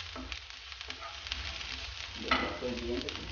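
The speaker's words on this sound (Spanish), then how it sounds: "Vamos a freír un poco." Minced ginger fries in a pan with a steady close sizzle and crackle, stirred now and then, growing louder and busier toward the end, with no talking.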